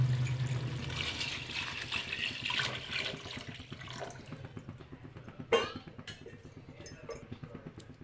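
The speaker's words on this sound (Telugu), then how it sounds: "3/4 కేజీకి మనకి ఎసరు 1 లీటర్ నీళ్లను వేసుకుందాము." About a liter of water pours into a pot of half-cooked chicken and rice for tahari biryani, a steady splashing and trickling stream up close, with a sharper splash midway and fading dribbles after.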